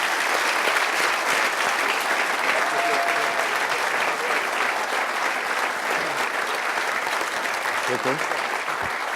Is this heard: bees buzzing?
no